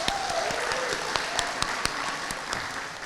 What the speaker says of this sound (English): Let's give all of our graduates a round of applause